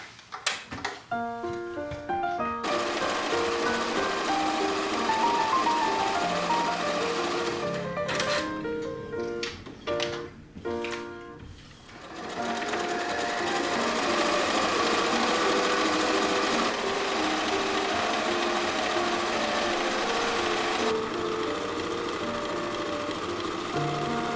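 A sewing machine quilting fabric for a quilted jacket, its needle running in steady fast rhythmic whirring, broken by a brief stop-and-start in the middle before a long continuous run.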